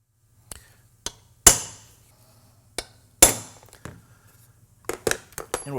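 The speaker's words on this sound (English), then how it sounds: "we're going to go ahead and center punch it" Sharp metallic hammer strikes on a center punch against a C5/C6 Corvette front lower control arm, set up for Del-A-Lum bushings: several spaced, loud, ringing taps close by, with a quick cluster of hits near the end.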